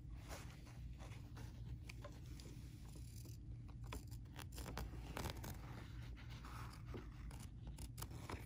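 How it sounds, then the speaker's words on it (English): Scissors snip close along fresh embroidery stitching on a swimwear appliqué, a steady run of small, near cutting clicks over a low, constant background hum. "now I'm just going to trim really, really close to the stitching without trimming the stitching"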